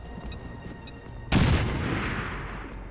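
A frag grenade in the Chimera Squad video game detonates with a sudden loud boom partway through, followed by a long decaying rumble and debris wash, after a few quieter game blips.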